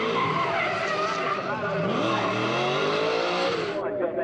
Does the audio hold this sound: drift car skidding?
yes